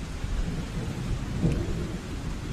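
Steady rain pours down, with a low rolling rumble of thunder building near the middle, heard alone as a storm effect during a tabletop role-playing game.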